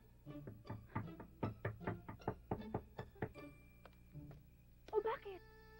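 A series of rapid knocks on a door, about a dozen sharp raps in quick succession, followed by a brief pause and a raised voice calling out.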